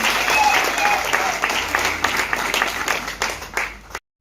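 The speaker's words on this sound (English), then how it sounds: "Let's hear a very big round of applause for our graphics class, ladies and gentlemen." Audience applause at a graduation ceremony honoring a graphics design and animation class, dense steady clapping from a sizable crowd lasting about four seconds before cutting off.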